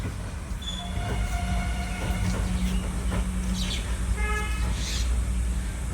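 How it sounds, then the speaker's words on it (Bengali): A small children's park train in Balurghat rolls past up close, with a steady rumbling clatter of wheels and repeated high metallic squeals and whistle-like tones over it. "এই যে বালুরঘাটের ট্রেন চলে যাচ্ছে"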